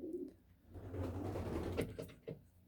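A pigeon coos nearby in a low, soft, throaty call, followed by a couple of brief knocks or clicks.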